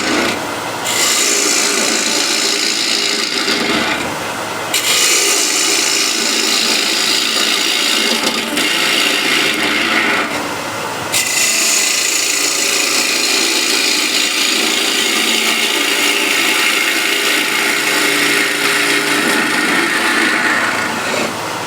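A tool hollows out a piece of wood with loud, continuous rasping and grinding, broken by a couple of short pauses, close up and alone without talk.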